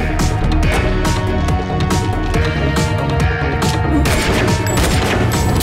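Gunfire from a Hindi-dubbed film: dense, continuous bursts of shots and booms form a loud, unbroken barrage over a full soundtrack, with no clear speech.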